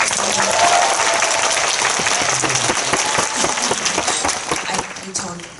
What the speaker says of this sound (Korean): 우리 감독님한테 박수 한번 주세요